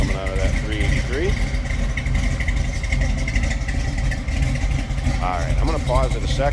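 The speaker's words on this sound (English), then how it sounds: "Nice throaty little rumble coming out of that 383." A deep, steady idle from the 383 engine of a 1966 Chevrolet Chevy II Nova rumbles close by, throaty and continuous, with a voice speaking over it.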